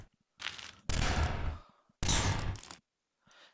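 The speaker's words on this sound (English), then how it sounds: "That's a rocket launcher." Two loud, explosive blasts a second apart from a rocket launcher in the video game Neon Defense, each a burst of broadband noise with rumbling tails, followed by a fainter hiss.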